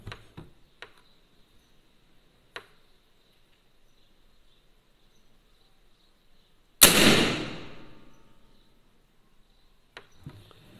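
A PCP air rifle fires once, a sharp, loud crack with a long fading tail, set among a few faint clicks and otherwise quiet surroundings.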